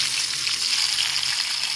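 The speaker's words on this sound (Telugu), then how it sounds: "కూరకి తాలింపు వేసుకుంటున్నాను." Onion frying in hot tempering oil for a curry, a steady, dense sizzle that crackles continuously and evenly throughout, close and alone with no talk.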